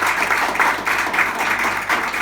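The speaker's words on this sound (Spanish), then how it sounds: "Démosle un aplauso a Tainaís." A church congregation applauds a member during a Sunday service, sustained clapping in pulsing waves that carries steadily for a couple of seconds.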